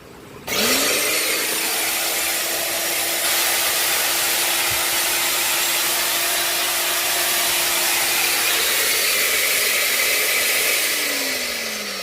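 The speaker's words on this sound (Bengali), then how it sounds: "আমি এখন মেশিনটি আপনাদেরকে চালিয়ে দেখাই যে মেশিনটা সাউন্ড কীরকম কোয়ালিটির" A wall hole core drilling machine sold at a wholesale import shop in Nawabpur runs loud and steady for about eleven seconds after a sharp start, a sustained motor whine with a harsh broadband grinding roar, then winds down at the end.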